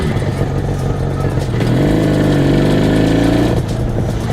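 An IZh Jupiter 400cc twin-carburetor motorcycle is being ridden, its engine droning steadily, then rising in pitch as it revs up before settling again.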